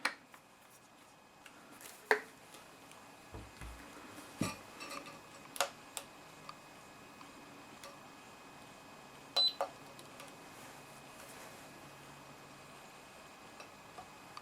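Gamo Coyote air rifle being cocked and its trigger tested with a trigger gauge, a few sharp metallic clicks and snaps spread out over a quiet stretch, close but faint, with longer silences between, no voices.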